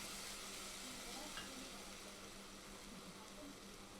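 Onions frying in a pan for a stuffed chicken snake gourd curry give a faint, steady sizzle that holds evenly throughout, with no clear stirring strokes standing out.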